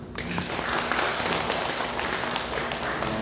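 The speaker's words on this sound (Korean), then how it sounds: "성도님들 감사하도록 박수 한번" A church congregation at a Sunday Easter service in Korea applauds steadily, a dense, continuous wash of many hands clapping that fills the room for a few seconds.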